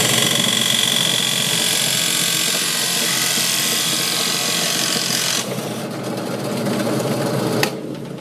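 A 1.5 inch Forstner bit bores into wood for a pumpkin rocker candle holder, a loud steady whirring drone that cuts off partway through and then gives way to a quieter hum with a brief knock near the end.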